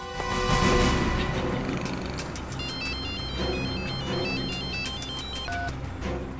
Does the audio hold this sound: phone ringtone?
yes